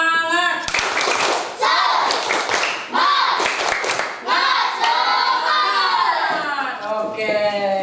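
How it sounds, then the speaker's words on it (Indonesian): A group of children performs a rhythmic spirit clap led by a teacher, sharp bursts of clapping in a patterned beat mixed with loud chanting voices. "Tepuk semangat."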